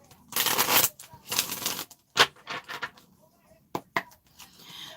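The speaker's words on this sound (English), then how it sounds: "I'm going to do one more shuffle." A deck of tarot cards being shuffled up close, several quick riffling bursts followed by softer taps and shuffles, fairly quiet with no talking.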